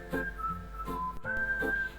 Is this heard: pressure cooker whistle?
yes